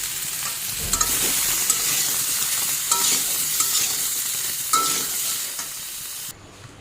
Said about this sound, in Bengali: হলুদ লবণ দিয়ে ভালো করে ভেজে নেব